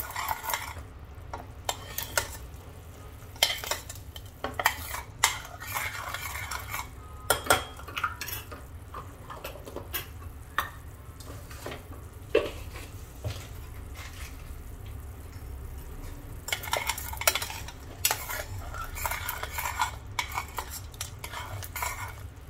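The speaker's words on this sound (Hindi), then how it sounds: "अब इनको मिक्स कर लेंगे अच्छे से।" Gond, dry fruit and mishri mixture being stirred in a pan for Sindhi ladoos, with repeated scraping and clinking of a spoon against the pan over a low steady rumble, close and moderately loud, with no talking.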